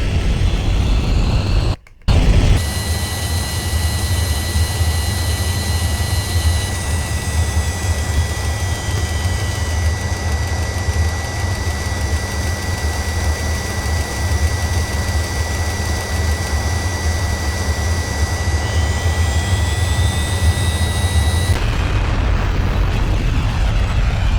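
Avro Vulcan bomber jet engines in flight give a loud, continuous roar with high whining tones, steady for over twenty seconds after a brief cut near the start, and no voices.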